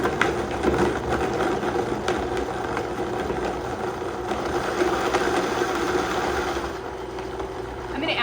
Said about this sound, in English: let's blend these things up and just see how it looks